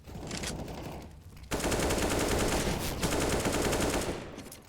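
Rapid automatic gunfire in an ESEA Premier competitive shooter match, loud sustained bursts with a short pause, then continuous firing, close and dense with no talk.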